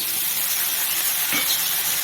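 Soft continuous sizzling hiss of green peas frying in oil, steady and close, with a brief faint clink partway through.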